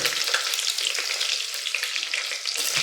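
Garlic and curry leaves fry in hot oil as a tempering for spinach dal, giving a loud, steady, close sizzle and crackle that runs without a break and carries no voices.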